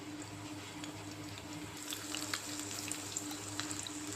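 Small white onions fry in oil for Nadu-style radish sambar, giving a steady soft sizzle with light crackling pops that grow a little busier partway through, with no voices.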